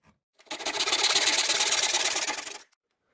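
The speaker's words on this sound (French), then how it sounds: "jusqu'à temps que la scie arrive au bas complètement" A hand saw cuts through wood for a foosball table in a quick run of close, rhythmic rasping strokes lasting about two seconds, alone and fairly loud.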